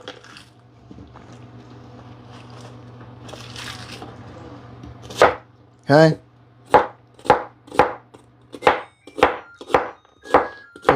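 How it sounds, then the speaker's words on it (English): A knife chops vegetables on a board for soup, about nine sharp, evenly spaced close strikes in a steady rhythm after a few seconds of quieter kitchen shuffling, with one brief spoken word. "I'm just chopping this up."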